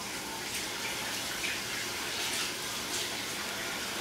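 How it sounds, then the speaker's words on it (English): Running tap water splashes over hands being washed at a kitchen sink while a potato casserole with cheese, bacon, basil and garlic is prepared; a steady, soft, gushing wash of water with no talking. "as soon as I wash my hands,"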